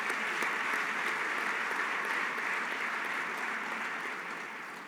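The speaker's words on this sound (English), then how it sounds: "Let's give them a round of applause." A convention audience gives a sustained round of applause for the Maryland National Guard, many hands clapping steadily and evenly before easing off slightly toward the end.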